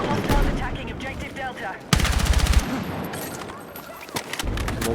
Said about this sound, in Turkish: Tamam mermi atacağım.